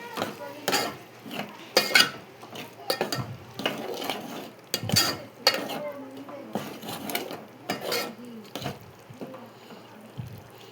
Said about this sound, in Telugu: వేసుకొని బాగా కలుపుకోవాలి.